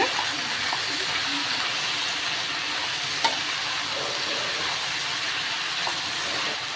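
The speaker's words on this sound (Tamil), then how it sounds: "மஞ்சள் பூசணி ஆட் பண்ணிக்கலாம் கூடவே பீன்ஸ் ஆட் பண்ணிக்கலாம் கேரட் ஆட் பண்ணிக்கோங்க எண்ணெயில் வதக்கி விட்டுக்கோங்க" Yellow pumpkin, beans and carrot sauté in hot oil for a Pongal vegetable curry, giving a steady, close sizzle with faint scraping stirs and one brief clack, no voices.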